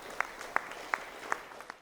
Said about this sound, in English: That applause greeted Kathleen Ryan and Nancy Smith as they took their place before the 53 other veterans of Mission 92.